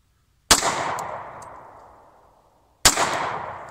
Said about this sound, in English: I should not talk while I'm shooting, or not shoot while I'm talking